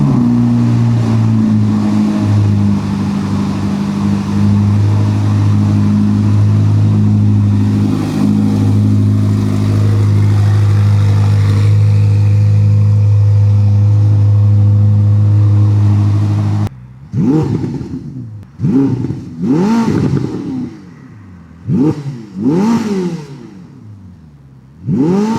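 A Ferrari SF90 Stradale, its engine derived from a California T and reworked to over 700 horsepower, drones loudly and steadily for about sixteen seconds, then gives several sharp, separate revs rising and falling.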